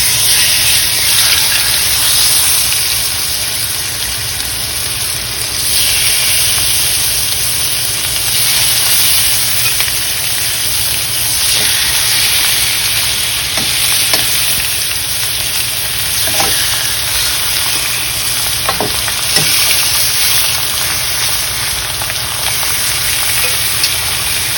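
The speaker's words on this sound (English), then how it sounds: "So let's add our pork." Pork frying in a hot pan sizzles loudly and steadily for the whole stretch, with a bright hiss and a few soft clicks of stirring. No one speaks.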